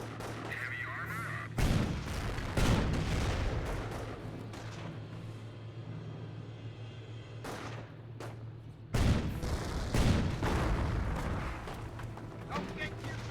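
Battlefield gunfire from rifle squads in Company of Heroes, with repeated heavy booming volleys and scattered shots over a continuous rumbling backdrop, with a voice talking over parts of it.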